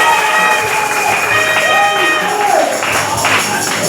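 A church congregation applauds and cheers, with clapping blended with raised voices, shouts and some singing-like tones, all loud and close throughout.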